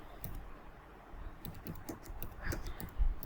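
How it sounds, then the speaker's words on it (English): A computer keyboard is typed on steadily as an essay topic is entered, giving a run of close, crisp key clicks and taps over a soft background with no voices. "just we have to type a topic to be completed"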